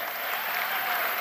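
Steady applause from a college audience at a junior college youth fest, a dense even patter of many hands clapping throughout without pause.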